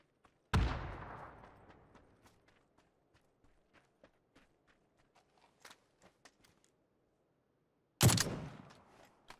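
Two loud HE grenade explosions in a video game boom with long decaying tails, one at the start and one near the end, with scattered footsteps and faint clicks between.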